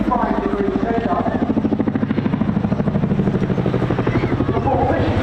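Aerobatic aircraft flying a roller coaster manoeuvre at the Bournemouth Air Festival airshow, a steady loud buzzing engine drone with a pulsing propeller beat, continuous throughout.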